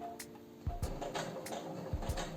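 A sewing machine stitches denim for mom jeans, quiet intermittent ticks and short mechanical clacks in an irregular rhythm, close by.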